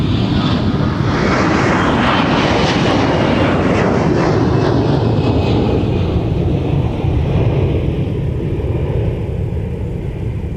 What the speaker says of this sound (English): And here comes one of the many Cadillacs for Delta Airlines, the A321.